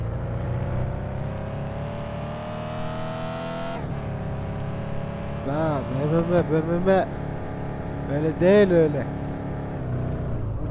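A race car fitted with a racing kit and turbo in the video game Car For Sale Simulator 2023 drones steadily, then revs hard in sharp accelerating bursts, while people talk over it.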